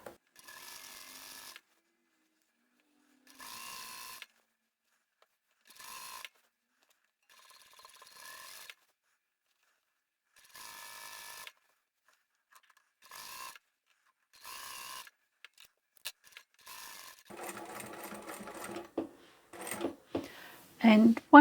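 A home sewing machine stitches a fabric shoulder strap for a reversible boho sling bag, running in repeated short bursts with pauses between, then a busier stretch of mechanical clatter and handling toward the end; a voice speaks briefly.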